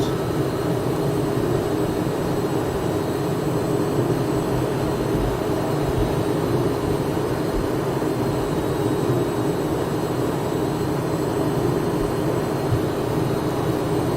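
A Cessna Citation Mustang jet in a flight simulator gives off a steady, unbroken engine roar with a constant broad hiss, holding at an even level with no speech.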